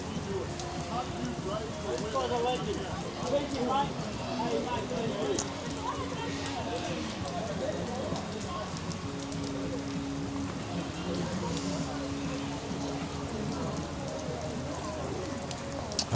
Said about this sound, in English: Some people like watching a bit of rain.